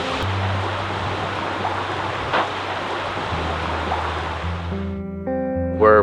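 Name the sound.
waterfall at the Fairy Pools, Isle of Skye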